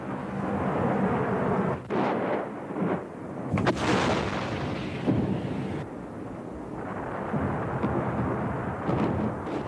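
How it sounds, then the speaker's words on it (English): Artillery and tank fire on city buildings booms and rumbles continuously, with repeated heavy blasts and rolling explosions heard at a distance in a besieged city during war. "The artillery and tanks that had encircled the city aimed their fire at specific buildings"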